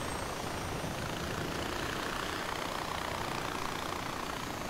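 Helicopter engine in the video game Far Cry 4, a steady, dense mechanical drone with no talk over it that holds at an even level throughout.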